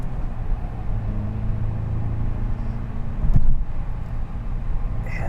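A 2022 VW GTI hatchback drives along twisty roads, a steady low engine and road rumble heard from inside the cabin, with a brief louder swell about two-thirds of the way through.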